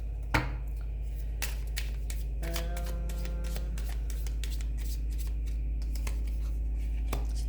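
Cards are shuffled by hand during a tarot-style reading, with quick riffling bursts, taps and a sharp snap near the start, close and fairly quiet with no talking.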